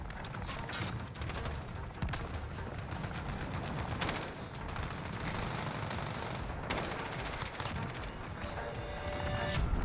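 Gunfire in Call of Duty Modern Warfare with a RAM-7 rifle, dense rapid bursts and overlapping shots crackling almost nonstop, fairly quiet in the mix with no clear talking.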